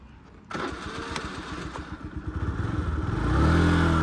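A carbureted 49cc Honda Dio AF-62 scooter engine is button-started: a half-second of quiet, then the starter cranks and the small engine catches, settling into a close, rapid putter that swells slightly louder at the end.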